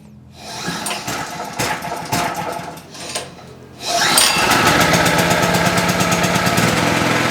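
A Mollar MLR 4500 SE petrol generator is pull-started by hand: a few uneven cranking rasps, then the engine catches and settles into a loud, steady running drone.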